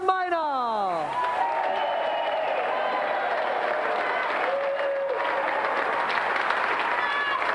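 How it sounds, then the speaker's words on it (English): Studio audience applause for two game-show competitors, a dense, steady clatter of clapping that swells after a brief descending musical sting and holds loud and even to the end. "let's have another round of applause for our two brilliant competitors"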